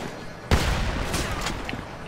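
Gunfire in GTA 5 Online during a sawmill deathmatch: a sharp shot bursts out about midway, followed by a rattling spread of further shots and noisy action that fades off, with no talking.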